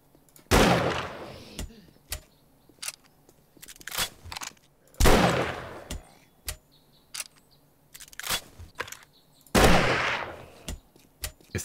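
Gunfire in the video game 7 Days to Die, with three loud, booming shots spaced several seconds apart, each with a long decaying tail, between smaller clicks and impacts.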